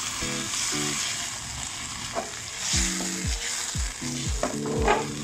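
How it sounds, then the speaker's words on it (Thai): Mixed vegetables are stir-fried with light soy sauce and oyster sauce over a steady hiss of frying, with repeated tonal scraping strokes of the spatula against the pan. "น้ำมันหอย ผัดคลุกเคล้าทั้งหมดให้เข้ากันนะครับ"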